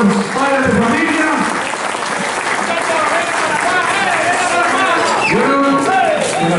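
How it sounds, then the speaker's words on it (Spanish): A theatre audience at the Jorge Eliécer Gaitán theatre claps in sustained, loud applause that fills the hall while someone speaks over it. "Un aplauso para ella y para los padres de familia."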